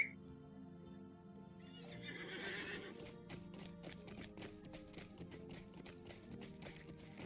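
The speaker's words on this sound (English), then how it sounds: "Let's get on our horse." A horse in the game Lord of the Rings Online lets out a whinny, then its hooves clip-clop in a steady, even rhythm, with game ambience and faint music underneath.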